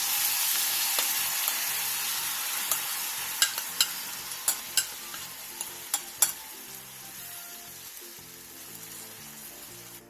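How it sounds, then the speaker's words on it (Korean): Pomfret frying golden in a pan, a steady close sizzle with a run of sharp clicks and taps from stirring or turning in the middle, and no talking. "병어가 앞뒤로 노릇노릇하게 구워졌으면 양념장을 골고루 뿌려주세요."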